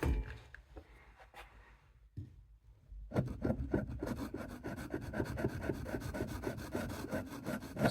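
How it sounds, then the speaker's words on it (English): A vintage Camillus Trailblazer knife is drawn back and forth across an axe puck sharpening stone to grind down a rounded tip, making close, rhythmic rasping strokes that start sparse, pause briefly, then run quick and steady. "Just going back and forth to grind down this tip that's a bit rounded"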